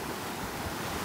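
Rough ocean surf at a beach in Trincomalee, Sri Lanka, a brief, steady broadband wash of breaking waves mixed with wind buffeting the microphone, loud and continuous with no voices.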